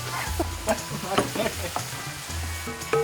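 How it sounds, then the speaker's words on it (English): An egg frying in a pan during a stir fry cooking challenge, a steady close sizzle with faint stirring and clinks running throughout, no talking. "I gotta fry my egg"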